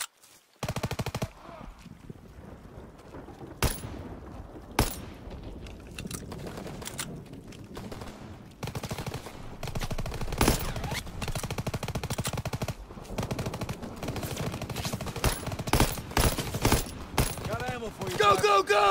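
Rapid machine gun fire in the World War II shooter game Call of Duty: WWII, loud repeated bursts that come near and far, over a dense battlefield din of other shots and impacts.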